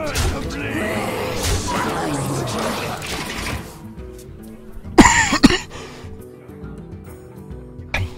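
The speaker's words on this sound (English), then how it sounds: "I just had a pretty heavy coughing bout there" Heavy coughing bout from a gamer during a live session, harsh throaty coughs and throat clearing over busy game sound, with a couple of loud sharp bursts midway.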